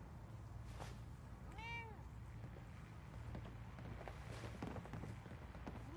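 A cat meows for attention in the Far Harbor DLC of the game Fallout 4, a single clear rising-and-falling meow near the start over a faint, steady low background hum, with a few soft scattered noises afterward.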